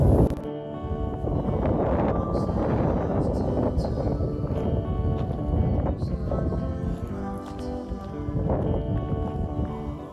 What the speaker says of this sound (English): Apologize, it's very windy.